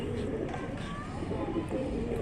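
Pigeon cooing from a racing pigeon kept by an old-city pigeon fancier, soft repeated coos at close range, partly under a voice talking.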